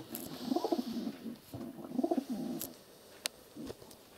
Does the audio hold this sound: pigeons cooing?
yes